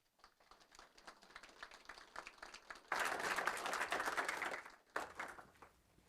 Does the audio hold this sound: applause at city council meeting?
yes